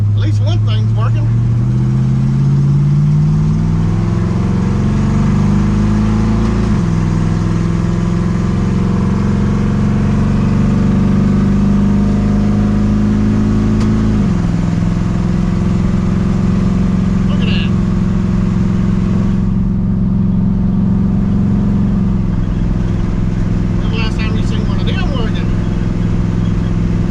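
A 1958 Dodge Coronet under repair for its brakes drives along with a loud, steady engine drone that rises and falls as it shifts through gears and accelerates, heard from inside the car.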